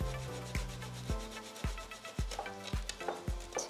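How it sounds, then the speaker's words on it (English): A carrot is rubbed against a hand grater in repeated rough rasping strokes, about one every half second, close and dry, with no voices. "Again, I can use my grater to just make it"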